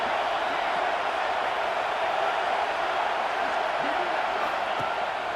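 Football stadium crowd roars in a steady, dense wash of noise on third down during a Texas versus Georgia game, distant and unbroken, filling the air evenly.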